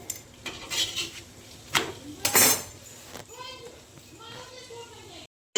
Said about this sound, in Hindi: फिर मैं बर्तन धोने जाऊँगी पीछे।